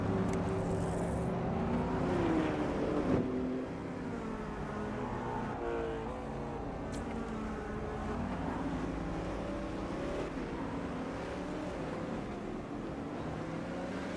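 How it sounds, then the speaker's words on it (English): Turbocharged race car engine in the Automobilista 2 sim racing game, an IMSA-style car howling with rising and falling revs through gear changes, loud and close from start to finish. "I forgot how angry this car was once the turbo kicked in fully"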